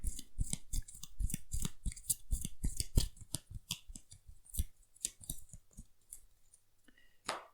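A deck of game cards is shuffled by hand during a tabletop card game, a rapid series of crisp riffling snaps that slows and thins toward the end, close and clear with no talking.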